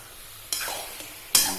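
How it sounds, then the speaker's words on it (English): Apples cooking in a kadai are stirred twice, each stroke a brief hissing scrape of the spatula over a low, quiet simmer. "I'll give it a stir."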